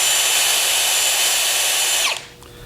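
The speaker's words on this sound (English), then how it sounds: "It's slow because each hole has to be countersunk twice." A power drill countersinks holes in aircraft horizontal stabilizer parts, running as a steady loud whine for about two seconds before spinning down and stopping.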